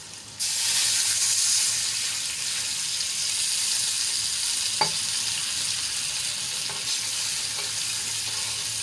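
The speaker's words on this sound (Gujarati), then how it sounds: "તો હવે એમાં આપણે પાણી એડ કરીશું" Water added to green chillies sautéed in hot oil in a pan sets off a loud, continuous sizzle close by, with a brief clink partway through.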